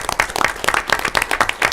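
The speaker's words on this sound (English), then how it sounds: "Let's give them a big round of applause" A crowd at a school board meeting applauds with dense, steady clapping from many hands, fairly close and lively throughout.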